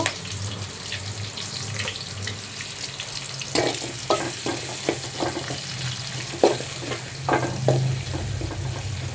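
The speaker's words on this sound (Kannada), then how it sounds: "ನೋಡಿರಿ ಇದು ಚೆನ್ನಾಗಿ ಫ್ರೈ ಆಗಲಿ" Cluster bean curry with onion fries in a pan, a constant sizzle broken by several scraping stirs of a spoon, close and fairly loud, with no voices.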